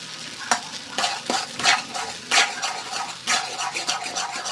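Stirring banana pudding mixture of cooked bananas in a pan, a utensil scraping and clinking against the pan in irregular strokes over a soft, steady sizzle, close and alone.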